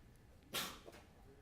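A single short sneeze bursts out close by, then trails off into quiet room tone.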